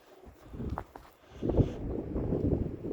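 Gusty wind roars and buffets, rising sharply halfway through and staying loud and turbulent, with low rumbling noise throughout.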